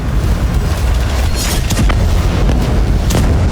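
Bombs exploding at night over northern Gaza: a continuous, heavy rumble of distant blasts, with a few sharper bursts cracking through the din and no voices.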